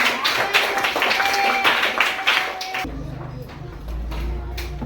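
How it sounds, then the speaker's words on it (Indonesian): A classroom of students in Indonesia claps together in brisk, dense applause for a few seconds, then it stops abruptly and low talk and room noise carry on. "Bersemangat, tepuk tangan untuk kita semuanya."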